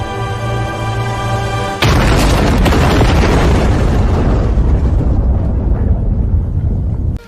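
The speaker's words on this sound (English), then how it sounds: "just the scene of the mansion exploding" A mansion blows apart in a Demon Slayer anime fight scene: a sudden massive boom cuts off the preceding music and rolls into a long, dense, roaring blast that fills the rest of the clip and ends abruptly.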